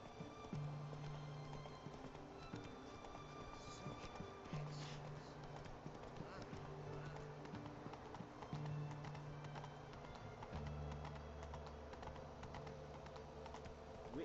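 A horse galloping in The Witcher 3, its steady clip-clop of hooves running continuously at moderate level beneath soft background game ambience.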